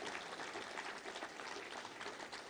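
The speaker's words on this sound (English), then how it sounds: "Give Tom a big round of applause." A luncheon crowd at the Little Rock Touchdown Club applauds, a continuous dense patter of many hands at a fairly low, distant level.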